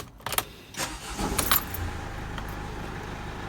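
Keys jangle and a Mercedes Sprinter W906 van's engine cranks and catches after the immobiliser is unlocked, then settles into a low idle, close up with no talking.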